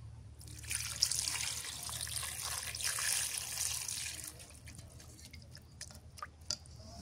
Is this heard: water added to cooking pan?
yes